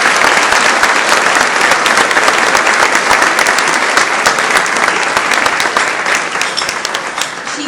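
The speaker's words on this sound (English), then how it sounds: "I think that deserves applause." Dense audience applause at a Seattle fire department gathering honoring the longest-serving fire chief, steady crowd clapping throughout that tapers slightly toward the end.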